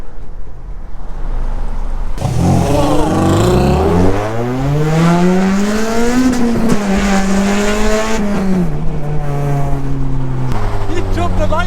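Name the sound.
straight-piped Honda Civic EP3 Type R racing, engine revving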